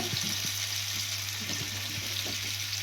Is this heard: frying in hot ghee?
yes